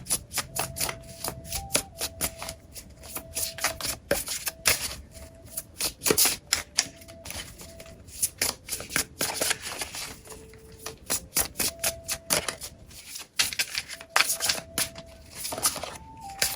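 Tarot cards shuffled by hand for a card reading, a dense run of quick papery riffles and taps over sixteen seconds, with a soft steady tone and quiet melody running underneath.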